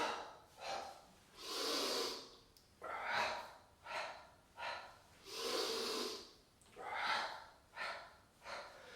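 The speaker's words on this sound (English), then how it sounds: "Breathe in, coming up, breathe out, coming down." Deep, audible breaths drawn in and pushed out during a kettlebell exercise session, alternating slow inhales and forceful exhales in a steady rhythm, close and clear with no other sound.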